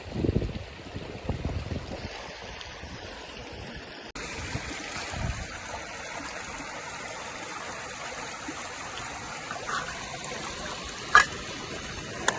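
A riverside stream flows steadily in the background, a faint continuous rush of moving water with wind buffeting the microphone and a few brief knocks.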